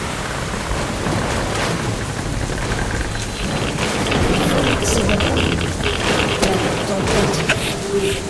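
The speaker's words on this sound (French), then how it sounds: "La tempête recommence." A rainstorm sweeps through the video game Metro Last Light: dense, continuous rain hiss with low rumbling undertones and scattered sharper drops, steady and fairly loud from start to finish.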